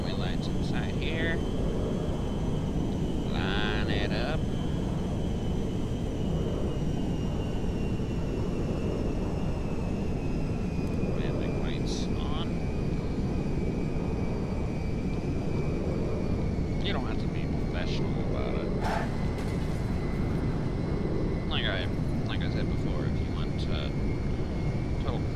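Steady, loud airplane engine drone throughout as a cargo plane lands and taxis at Zancudo in the FiveM game, with a whining high tone and brief clicks over it; someone talks intermittently.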